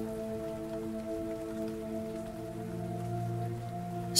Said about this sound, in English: The sounds of the rain are becoming louder now, and you hear the distant rumble of thunder.